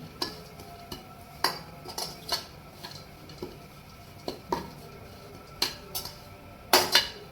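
Grated coconut is roasted and stirred in a pan, heard as repeated metallic scrapes and clinks of a spoon against the pan in an uneven rhythm over a quiet background.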